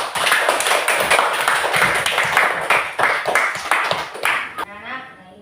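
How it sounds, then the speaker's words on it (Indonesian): A classroom of students claps together in a lively, dense burst of applause lasting several seconds, close and loud, with voices mixed in, before it stops abruptly. "yuk kita sekali lagi kita kasih aplaus untuk kita semua"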